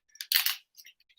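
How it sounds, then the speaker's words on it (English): A new bottle being opened, heard as a quick crisp crackle and snap followed by a few faint clicks, short and close, with no voices. "That's the sound of a new bottle."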